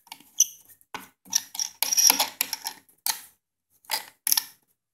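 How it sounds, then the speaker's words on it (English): Nuts on an equipment filter cover are being unscrewed by hand, giving a series of short, close metallic scrapes, ticks and creaks in uneven bursts separated by silence. "So you got two nuts on here that can be unscrewed by hand."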